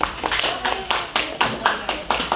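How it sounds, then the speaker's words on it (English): A small audience claps for a cinematographer at a New Jersey film launch event, the rhythmic, fairly close claps landing in a loose steady beat of distinct individual hits rather than a dense roar. "just a big round of applause, Mr. Mukesh."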